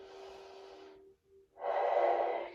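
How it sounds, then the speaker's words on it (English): Slow, deep breaths drawn in and pushed out during a seated stretching routine with a chair, two long airy exhalation-like swells separated by a short pause, close and fairly soft with no talking. "Continue your deep breathing."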